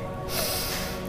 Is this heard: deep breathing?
yes